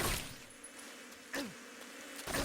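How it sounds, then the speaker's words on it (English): Insects buzz in a video game near a beehive, a faint droning hum with a couple of louder swooshing passes, short and sparse, no speech. "Oh no, the bees have stopped."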